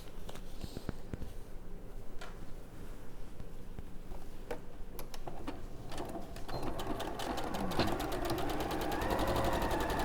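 A sewing machine stitches together the fabric for a gnome's arms and hands, a close, steady rapid whirring and clatter that picks up speed toward the end.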